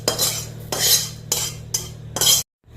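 Potatoes are cut for french fries with five distinct chopping strokes in an uneven rhythm, each a crisp, close knife hit, followed by a sudden silence.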